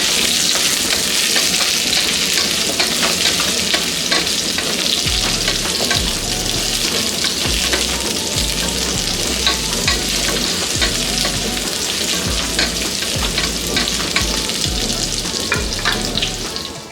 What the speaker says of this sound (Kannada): ಫಸ್ಟು ಇದನ್ನು 2 ರಿಂದ 3 ನಿಮಿಷದಷ್ಟು ಚೆನ್ನಾಗಿ ಫ್ರೈ ಮಾಡ್ಕೋಬೇಕು ಎಣ್ಣೆನಲ್ಲೇ